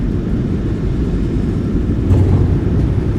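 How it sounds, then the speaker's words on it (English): A Boeing 737-800 in the PMDG flight simulator rolls down the runway with thrust reversers deployed, a loud steady low-pitched roar that swells slightly toward the end. "Reversers are out. Decelerating."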